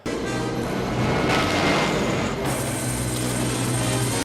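A helicopter roars loudly and continuously in a movie scene, flying through an explosion, its engine and rotor noise filling the space without a break until it cuts off abruptly.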